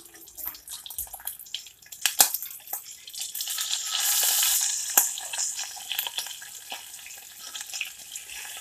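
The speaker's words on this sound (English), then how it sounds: "So basically what I'm cooking this bacon for is for flavor, of course." Bacon sizzling and frying in a pan for a homemade mac and cheese with green beans, a steady crackling hiss with sharp spattering pops and occasional scrape of a spatula, close and fairly loud, with no talking.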